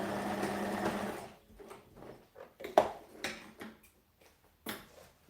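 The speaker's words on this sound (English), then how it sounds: "So I've just sewn one side seam there" A sewing machine stitches a side seam with a fast, steady whirring run for about a second, then stops, followed by scattered clicks and handling taps.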